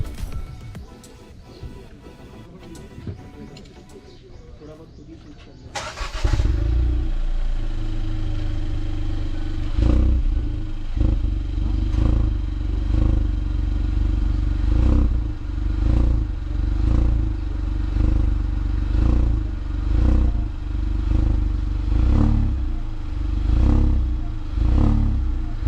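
After a few quieter seconds, a Hyundai i20 N Line exhaust fires up into a steady low-rev burble with a rhythmic, pulsing drone that stays loud and close for the rest of the clip.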